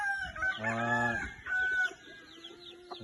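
A Sweater gamefowl rooster, about five to six months old, gives a close, clear cluck and a short crowing call, followed by a few softer clucks in a backyard setting.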